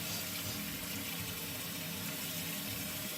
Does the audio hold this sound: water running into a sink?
yes